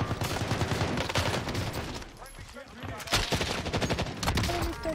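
Rapid bursts of gunfire from a Warzone Pacific match fill the clip, dense volleys near and loud, with a brief lull in the middle before firing resumes.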